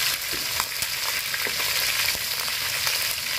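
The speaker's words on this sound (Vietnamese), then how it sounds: "Chiên xả nó thơm ha." Lemongrass frying in a hot pan of oil, a steady close sizzle with faint crackles and occasional stirring scrapes, heard alone.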